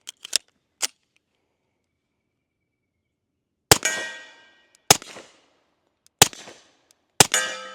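A Sig 1911 Series X Stainless pistol fires loud, sharp single shots outdoors. A few quick reports come early, then after a pause four more are spaced about a second apart, each followed by a brief ringing tail.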